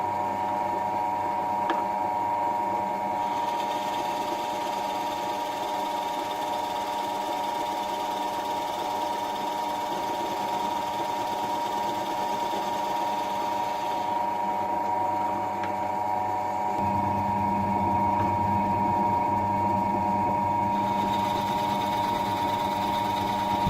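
A steady, close mechanical whir of a counterboring tool machining a hole in a bullet coat rail, humming evenly with a slight change in pitch partway through.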